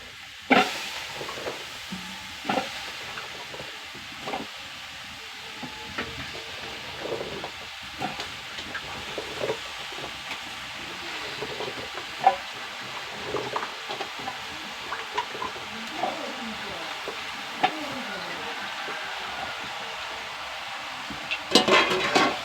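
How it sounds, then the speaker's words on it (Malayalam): Meat being sautéed in a pan, stirred now and then, with a soft steady sizzle and occasional scraping clinks, fairly quiet and close throughout. "നന്നായി ഇറച്ചിന്ന് വഴറ്റിയെടുക്കും."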